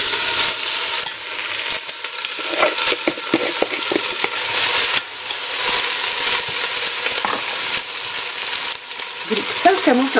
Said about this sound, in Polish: Ze 3 łyżki oliwy albo oleju rzepakowego musimy wlać na początek, żeby obsmażyć te warzywa.